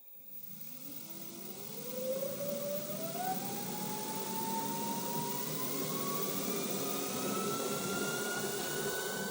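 Homemade electric brush hog motor, a small quarter-horsepower unit on a tractor build, spins up with a rising whine that climbs in pitch over about two seconds and then holds as a loud, steady high hum.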